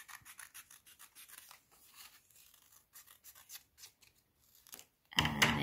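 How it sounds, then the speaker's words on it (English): Scissors snip out a paper circle in a rapid run of small, close crisp cuts, then a louder burst of rustling paper at the end. "you need to cut it out really carefully so you've got a really exact circle"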